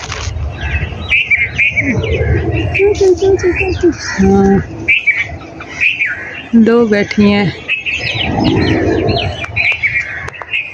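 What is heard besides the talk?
bulbul calling from above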